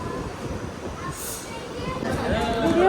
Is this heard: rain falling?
no